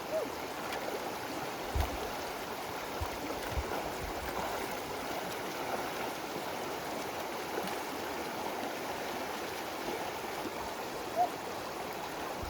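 Steady river water rushes and burbles during a backpacking river crossing on Iceland's Laugavegur Trail, a continuous broadband wash with a few soft knocks and splashes and no voices.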